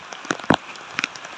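Rain falls during a fishing trip at Tuas Yan, heard as scattered close taps and splatters of drops striking a surface, with one sharper hit in the middle and no voices.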